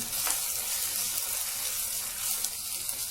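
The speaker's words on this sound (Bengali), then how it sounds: "এখন আমি আদা রসুন পেস্ট দিয়ে দিচ্ছি।" Ginger garlic paste frying with onions in a pan for a masala eggplant dish, giving a steady, even sizzle that hisses continuously throughout at moderate loudness.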